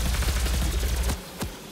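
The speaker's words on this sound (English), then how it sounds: "The gun suddenly sounds horrible." Dense, rapid automatic gunfire from a video game, loud and continuous, breaking off before a final lone shot.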